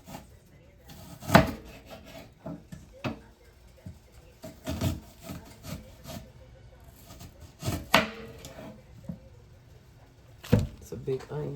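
A big onion chopped with a knife on a board for salmon patties, irregular sharp thuds spaced a second or two apart, close and clear over faint background noise.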